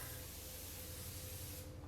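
A continuous fine hissing spray of disinfectant mist lasting about two seconds, steady and fairly close, then cutting off.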